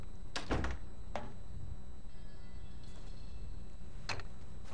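Door closing in the video game Hitman: Blood Money, a few sharp thuds and knocks over a steady low game ambience, with no speech.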